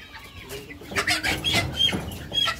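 Red Island Red hens cluck and squawk in agitated bursts as they are caught one at a time for Ranikhet disease vaccination on a poultry farm, the calls close and fairly loud with no talk.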